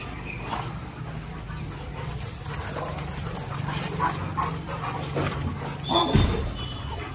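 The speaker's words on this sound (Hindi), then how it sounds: "आज सारे डॉग्स मस्तियां कर रहे हैं फुल।" Several dogs playing together with repeated yips, barks and whimpers scattered throughout, moderately close, over steady background noise and no talk.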